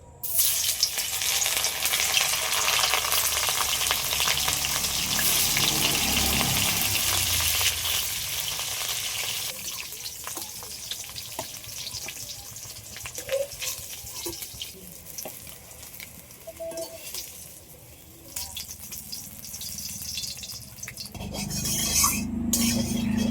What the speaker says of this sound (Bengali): একই তেলের মধ্যে আলু আর ফুলকপি আর ডিম ডিমগুলো ছাড়িয়ে পরিষ্কার করে নিয়েছি সবগুলো ভেজে নেব